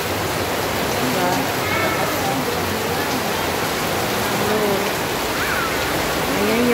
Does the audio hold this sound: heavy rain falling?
yes